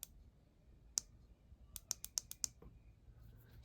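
A rechargeable LED flashlight's button clicks sharply and close: one lone click, then a quick burst of several more in rhythm, all against near silence.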